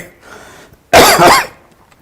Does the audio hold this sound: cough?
yes